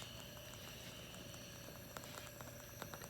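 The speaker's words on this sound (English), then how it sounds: "As we near the end of this reaction, we're going to heat it until it just begins to boil." Copper solution heated toward a boil in a lab vessel gives a faint, steady bubbling and crackling hiss with scattered small pops, quiet and close, with no talk.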